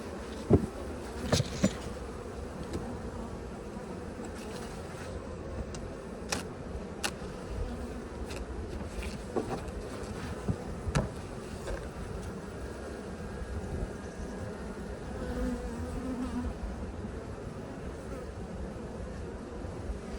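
Honey bees buzz continuously around an open, somewhat weak hive, a close dense drone with occasional sharper passes and clicks of handling.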